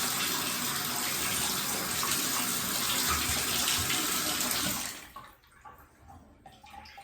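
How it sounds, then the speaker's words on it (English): Water from a tap rushes steadily into a dug glass bottle as its inside is rinsed, a loud close splashing flow that cuts off after about five seconds, leaving faint drips and small clatters. "Rinse the inside of your bottle out really good."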